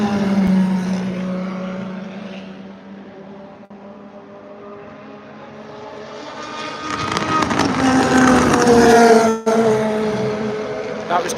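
At Le Mans at night, a Mustang race car roars past trackside, its engine note swelling and dropping as it goes by. Crowd noise and someone talking are heard underneath.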